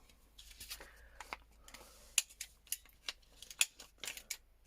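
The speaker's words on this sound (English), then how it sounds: "I'm going to snip the corner" Sharp, crisp snips of scissors cutting the corner off a paper craft piece for a junk journal, several separate cuts spaced irregularly and close by, with soft paper rustling between them and no talking.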